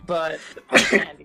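A single sharp sneeze bursts out close to the microphone right after a person finishes speaking.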